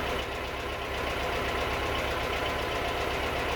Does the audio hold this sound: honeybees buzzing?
no